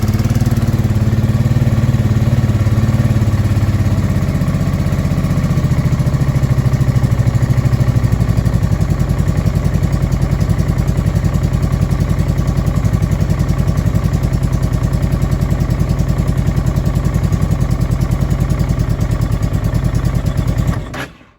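A Honda Deauville NT650V5 motorcycle engine idles too fast and steady, a loud continuous rumble that holds for about twenty seconds before cutting off abruptly.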